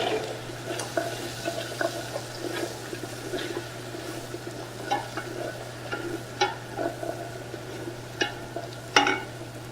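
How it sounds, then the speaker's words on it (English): Bacon is stirred in a pot with red onion, giving soft scrapes and light clicks of a utensil at an irregular pace over a quiet sizzle and a steady low hum. "I want to give this a little stir, making sure that our bacon's not burning or sticking too much to the bottom of the pot."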